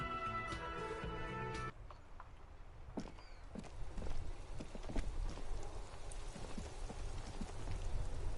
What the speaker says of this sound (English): rain falls on the great city of Revachol.